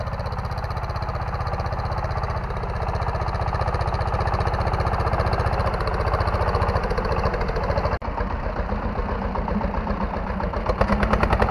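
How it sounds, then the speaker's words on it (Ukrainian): A small tractor engine, a Bulat SF-200, chugs steadily at idle, close by, with a constant low rumble and rhythmic pulsing throughout; no voices. "Ось для цього цей трактор."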